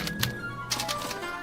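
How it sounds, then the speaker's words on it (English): A special typewriter in the Back to the Future video game prints out a punch card, giving a few quick mechanical clacks and thunks close up, with a short pause between two bursts. "they're relayed to this special typewriter, which prints out a punch card that represents the subject's mind map"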